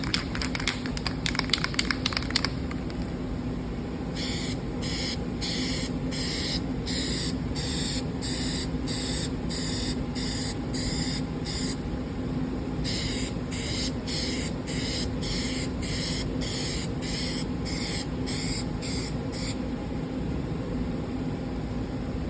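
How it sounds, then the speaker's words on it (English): Short hissing spray bursts repeat in quick rhythmic pulses, two runs of rapid puffs from an aerosol can spray painting an acrylic sheet up close over a low background hum. "Now I've unmasked the red areas, and I'm going to spray those."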